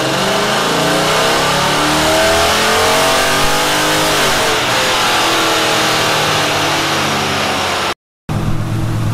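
A Mopar engine on a dynamometer pull with the nitrous off, a loud continuous roar rising steadily in pitch through the full run, then cutting off abruptly near the end before the engine idles back.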